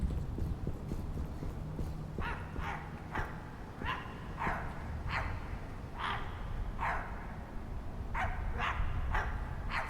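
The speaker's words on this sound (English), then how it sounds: "Sounds like the dogs are back out." Dogs bark repeatedly in a video game, a steady run of sharp barks of moderate loudness over a constant background ambience.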